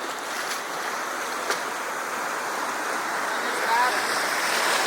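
Waves washing onto a beach, a continuous broad hiss of surf with gentle swells, fairly steady and moderately distant, with no clear talk.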